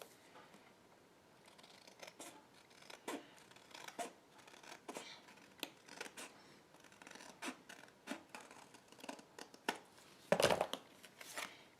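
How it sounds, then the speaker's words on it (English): Card paper being trimmed for a handmade holiday card, a series of quiet, close snips and papery scrapes in an irregular rhythm, with one louder rustling crunch near the end and no talk. "Okay, I'm going to trim this off."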